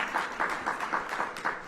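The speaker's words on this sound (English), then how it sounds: "Give them a big round of applause." An audience at a National Cherry Blossom Festival kickoff in a hotel ballroom applauds steadily in a short, moderately loud round of claps.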